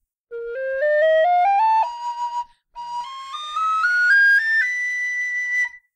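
A carbon fiber tin whistle with an aluminium fipple body plays a bright rising scale of clear notes, pauses briefly, then climbs again into high, piercing notes held steadily at the end.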